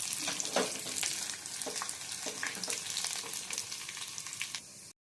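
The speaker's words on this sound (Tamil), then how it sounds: "2 காஞ்ச மிளகாய், கொஞ்சோண்டு 2 பூண்டு தட்டி வச்சு இதை போட்டு நல்லா பொரிய வைக்கணும்" Dried red chilies and crushed garlic frying in hot oil, a steady close sizzle with crackling pops, alone without voices, cutting off near the end.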